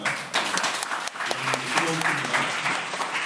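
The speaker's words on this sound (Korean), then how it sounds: "어제 수고했던 우리 주장들한테 박수 한번 쳐줄까요?" A congregation of young church members claps in a burst of applause, loud and continuous for a few seconds, with voices mixed in.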